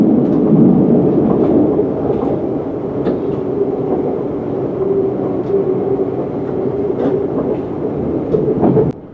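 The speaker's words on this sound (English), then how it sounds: "Our train passes underneath the wide formation of the West Coast Main Line to come alongside it" A train on the Watford DC Line rumbles along, heard from inside as a loud, continuous low roar with faint rhythmic clatters from the track and no voices.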